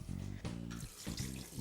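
Water runs from a kitchen tap, short bursts of splashing flow starting and stopping close by.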